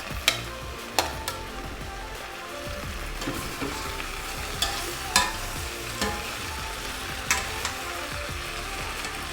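Potatoes and carrots stirred into a sizzling pot of chicken colombo, with continuous frying hiss and scattered spoon scrapes and knocks against the pot, close and moderately loud.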